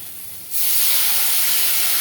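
Water poured into spice paste frying in a hot pan gives a sudden loud, steady steam hiss that starts about half a second in and holds to the end, close and alone.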